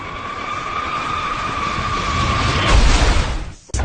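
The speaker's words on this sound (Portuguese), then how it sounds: "E esse é o som do avião se partindo." An airliner in a high-speed dive breaks apart. A loud, steady rushing roar carries high whining tones, swells near the end, then cuts off abruptly.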